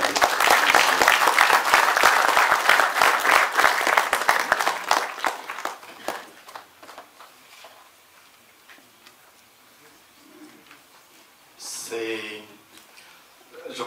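Strong audience applause at a Catholic colloquium, loud dense clapping that thins into scattered claps and fades out, followed by a brief voice near the end.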